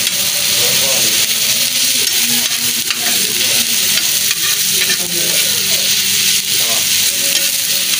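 Masala fries in a pan with melting tikkis, giving a loud, constant sizzle and hiss with stirring scrapes, close up and unbroken, with a voice faintly talking underneath.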